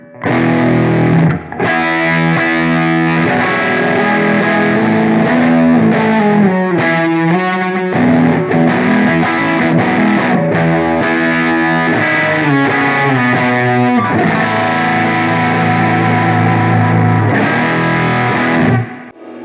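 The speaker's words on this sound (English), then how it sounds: "We're hearing loads of different drive sounds" Heavily distorted electric guitar plays riffs and chords through a Blackstar ID:X amp's shifting overdrive and fuzz tones, loud and continuous with brief pauses between passages.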